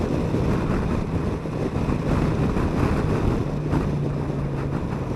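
A Kawasaki Versys 1000 GT motorcycle pulls in third gear in road mode with a steady, low engine hum buried under heavy wind rush against the microphone, and no one speaks.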